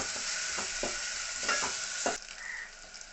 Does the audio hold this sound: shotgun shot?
no